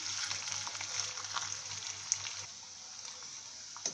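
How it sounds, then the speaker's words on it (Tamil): Paneer cubes fry in hot oil, a quiet, close, continuous hiss and sizzle with a low hum beneath and a few sharp pops and clicks near the end, with no talking. "எண்ணெய் காஞ்ச உடனே இந்த பன்னீர் இதில் போட்டு கொஞ்சம் ஃப்ரை பண்ணிக்கலாம்"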